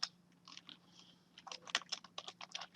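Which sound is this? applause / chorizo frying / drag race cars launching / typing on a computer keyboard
typing on a computer keyboard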